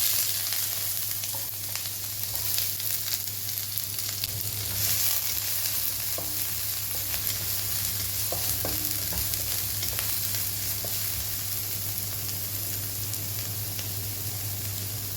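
Onion, dried red chilies and mustard seeds fry in hot oil for a palak dish, holding a dense, even sizzle for the whole stretch with occasional faint pops and light stirring clatter, close and without speech.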